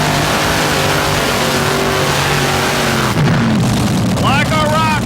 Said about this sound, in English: worth of pulling tractor right here in the machine they call the Driller